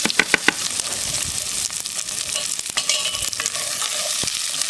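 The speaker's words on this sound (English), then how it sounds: "And chuck in the onions and garlic." Onions and garlic fry in hot olive oil in a pot, a steady crackling sizzle with a few sharp pops early on and occasional scraping stirs throughout, close and fairly loud with no talking.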